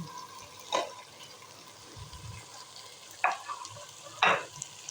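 Washed pulao rice and chickpeas fry in a pot, giving a soft sizzle with several sharp bursts of scraping and stirring spread across the stretch.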